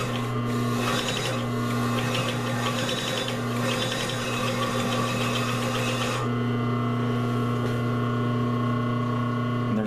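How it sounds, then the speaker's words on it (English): A sewing machine runs steadily for about ten seconds with a constant motor hum and rapid needle clatter, sewing forward and then back over the same seam to back tack. The sound is close and even, and nobody speaks. "You want to sew about 1 inch and then sew back on it."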